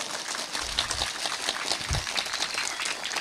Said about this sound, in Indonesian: Lho tepuk tangan sing banter,